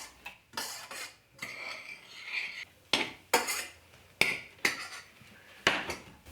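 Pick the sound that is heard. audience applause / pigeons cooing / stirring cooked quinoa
stirring cooked quinoa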